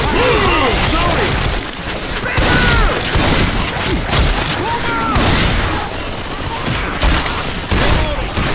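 Video game gunfire, dense repeated shots and booming blasts in a loud continuous firefight, with weapon chatter layered throughout the whole stretch.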